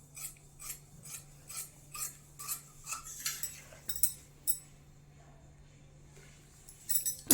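Scissors cutting through blouse fabric, a quick run of about a dozen crisp snips in even rhythm, then a pause with faint clinks before a few more snips at the end; close but soft.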